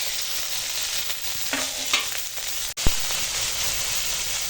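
Onion, chili, green mango, ginger and garlic fry in hot oil with a soft steady sizzle, a few stirring scrapes and one sharp clack of a utensil against the pan.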